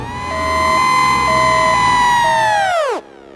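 An ambulance siren sounds loud and close as a steady, bright wailing tone that holds for about three seconds, then abruptly winds down and cuts off. There is no talking.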